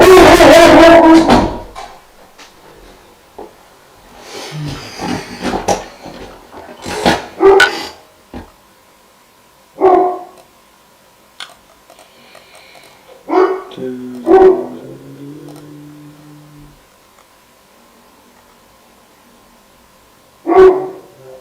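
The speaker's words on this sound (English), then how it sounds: "my dog's going crazy" Dog barking excitedly in bursts spread over about twenty seconds, loud and close, with a person talking between the barks.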